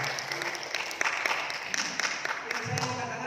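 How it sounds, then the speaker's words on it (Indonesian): Church congregation clapping for God after a sermon story, dense steady applause filling the room at moderate level with some voices mixed in. "Tepuk tangan bagi Tuhan dulu."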